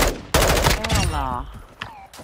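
Single sharp sniper rifle shot in a multiplayer shooter game, loud and close at the start, followed by lingering echo and game effects, with brief voice sounds mixed in.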